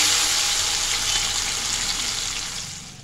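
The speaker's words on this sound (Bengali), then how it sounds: "বাকি মাছগুলো আছে ওগুলো আমি ভেজে নিচ্ছি।" Fish sizzling as it fries in hot oil in a wok, a loud, steady hiss that fades slightly toward the end, heard alone with no voices.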